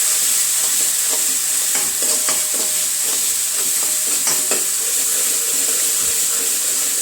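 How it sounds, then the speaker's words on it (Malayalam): Masala paste cooking in a pan, hissing steadily throughout while a spoon scrapes and stirs it in irregular clinks, close and fairly loud with no talking. "അരപ്പ് നന്നായിട്ട് മൂക്കട്ടെ ഇതിനകത്ത് കിടന്ന്."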